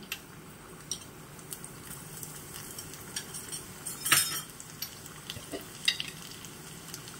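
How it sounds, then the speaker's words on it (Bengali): Chopped garlic hits hot oil in a pan, giving a quiet, steady sizzle with scattered clicks and scrapes of a utensil stirring against the cookware. "একটু তেলটা গরম হবে, দিয়ে দেব সামান্য রসুন কুচি।"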